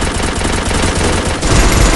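Rapid gunfire in the mobile battle-royale game Free Fire, a dense run of loud bursts firing continuously, with a heavier burst toward the end.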